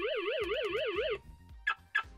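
A Xiaomi Mi smart sensor set alarm wails in a loud, rising-and-falling electronic siren that stops abruptly partway through, followed by a couple of brief clicks and beeps nearby.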